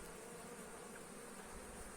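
Honey bees hum inside an opened spring beehive, a dense, steady, faint drone with no pauses and no voices.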